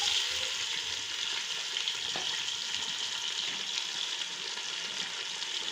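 Meat added to lightly sautéed onions in oil for a chana dal gosht curry, giving a dense, steady, close sizzle that holds evenly throughout with no pauses.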